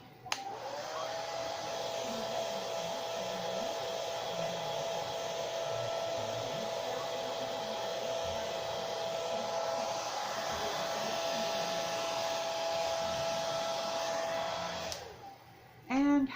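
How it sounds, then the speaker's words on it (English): A hair dryer blows steadily and loudly for about fifteen seconds, a constant whooshing roar with a thin high whine riding on top, used to dry chalk paint on a rusty nut, then cuts off abruptly near the end. "Let me blow dry this."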